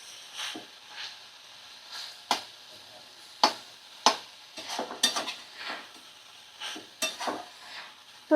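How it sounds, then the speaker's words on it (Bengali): A spoon scrapes and knocks through banana stem curry in a pan over a switched-off flame, giving a series of separate sharp strokes spread irregularly and heard up close against quiet, faint sizzling. "একটু নাড়াচাড়া করতে হবে।"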